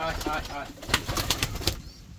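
Rajshahi Giribaz pigeons at a pigeon farm, with a flurry of wing flaps and soft bird calls close by, mixed with someone talking underneath.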